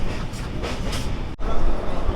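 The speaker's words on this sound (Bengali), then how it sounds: "এই হচ্ছে আমাদের ট্রেন এসে পৌঁছালো বর্ধমান জংশন" A passenger train on the Kolkata–Ayodhya route pulls into Bardhaman Junction, a steady loud rumble and rattle of carriages that drops out for an instant before resuming.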